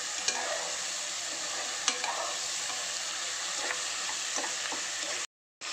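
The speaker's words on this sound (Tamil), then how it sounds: "நல்லா 2 நிமிஷம் எண்ணெயிலே நல்லா வதக்கிக்கலாம்" Food sautéing in oil in a pan, a steady broadband sizzle with occasional sharp scrapes of stirring, close and fairly loud, cutting to silence briefly near the end.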